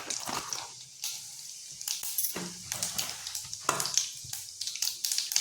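Mustard seeds and cumin sizzle and crackle in hot oil in a pan, a steady close frying hiss with scattered sharp pops and spits, no talking.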